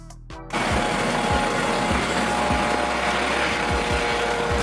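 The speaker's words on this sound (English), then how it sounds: "Police helicopter, aerial police patrol." A police helicopter on aerial patrol passes close overhead with a loud, steady rotor roar and rhythmic blade thumps. The noise cuts in abruptly after a brief quieter moment and holds for the rest of the stretch, with no voices.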